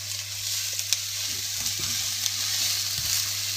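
Chopped onions frying in hot oil for lamb dopiaza, a steady close sizzle with light crackles and a few stirring scrapes, no talk.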